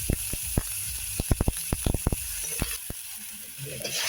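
Chopped tomato dropped into hot oil tempered with panch phoron for a paneer curry: a steady close sizzle and hiss with many sharp pops and spits that thin out over a few seconds.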